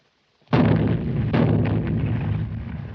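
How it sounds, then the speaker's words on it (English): Cannons fire in sudden heavy booms, the first striking out of silence and a second following about a second later, each rumbling on in a long roar, with no talk over them. "Do you hear those cannons?"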